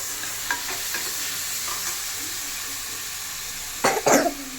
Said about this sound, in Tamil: நல்லா வதக்கி விட்டுக்கலாம்.